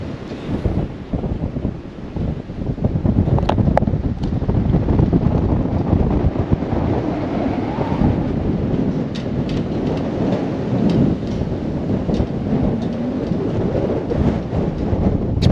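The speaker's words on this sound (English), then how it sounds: "the wind is absolutely ripping up here above the trees, coming up over the mountain here" Strong wind roars over a mountain lookout tower high above the treetops, a loud, steady broadband rush with gusting surges and buffeting that continues throughout.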